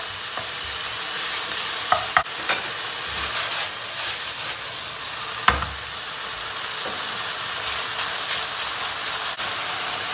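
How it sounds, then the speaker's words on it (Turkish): Chicken and eggplant sauté in oil in a hot pan over high heat, a steady loud sizzle with occasional clatters of stirring, and no talk. "Yüksek ateşte tavuklarımızı soteleyeceğiz."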